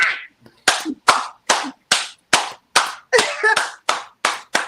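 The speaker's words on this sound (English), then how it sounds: "Round of applause. Round of applause." A small group claps in a slow, steady rhythm, about a dozen sharp, distinct claps spaced evenly and heard up close.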